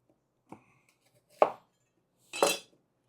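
A knife chops red onions into quarters on a cutting board: three separate, crisp cuts spaced about a second apart, each louder than the last, with silence between them.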